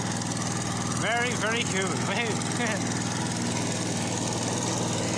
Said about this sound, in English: I put a new yoke on the lawnmower, now it can drive by itself.